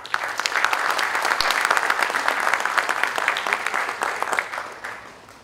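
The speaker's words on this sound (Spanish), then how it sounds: "vamos a recibir con un fuerte aplauso al doctor Stefan Schauer." An audience at a conference on critical infrastructure resilience applauds warmly and steadily, a dense sustained clapping that tails off near the end.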